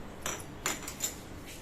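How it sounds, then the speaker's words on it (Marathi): Eggplant is cut into four pieces with a kitchen knife, giving three faint, brief clicking taps of the blade at close range in a quiet setting. "त्याच पद्धतीने दुसरं पण चिरतो अशा पद्धतीने आपण सर्व वांगे आता चिरून घेणार आहे"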